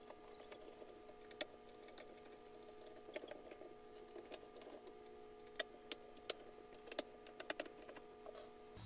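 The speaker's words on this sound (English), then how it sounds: "So let's go ahead and unscrew this so you guys can see what's inside." Screws on the metal bottom plate of a Qanba Q2 arcade stick are backed out at close range, with faint scattered clicks and small ticking taps over a quiet, low hum.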